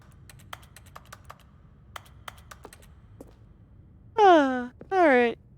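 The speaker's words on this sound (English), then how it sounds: "I love how your buttons still sound like a keyboard" Sharp clicky button presses in The Stanley Parable, sounding like a computer keyboard, come as a run of isolated taps, some in quick pairs, and then a voice makes two drawn-out tonal groans.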